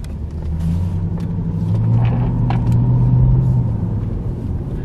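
A Lexus LS400 with a chopped muffler idles and then revs gently, heard from inside the well-insulated cabin as a low, muffled exhaust rumble that swells slightly and settles back.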